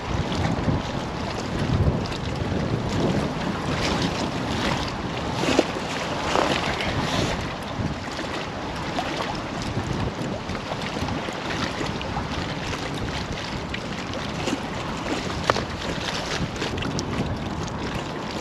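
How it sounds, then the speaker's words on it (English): Steady wind buffets the microphone over choppy waves on open water during a winter skimmer fishing session, a continuous rushing, sloshing roar with no voices throughout. "Getting quite choppy waves on it now."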